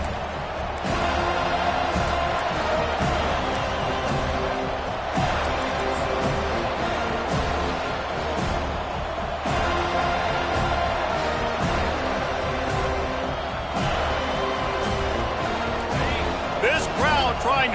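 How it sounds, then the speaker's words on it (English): A Florida State football stadium crowd roars and cheers before a drive. The noise is dense, loud and continuous, with a play-by-play announcer talking over it the whole way. "This crowd trying to show them what it's going to be like all day in this house."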